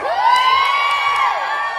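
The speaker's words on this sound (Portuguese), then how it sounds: "torcida do Flamengo" A crowd of Flamengo supporters cheers in a loud, sustained roar. A high whoop or whistle-like cry rises over it for nearly two seconds.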